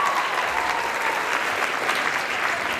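School assembly audience clapping for panelists at an antibullying event, a steady, dense burst of applause from many hands throughout.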